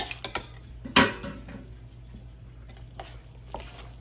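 A heavy-duty spoon stirs macaroni and cheese through its cheese sauce, scraping and clinking against the pot in a few close, uneven knocks with one sharp clack near the start and quieter wet scrapes after.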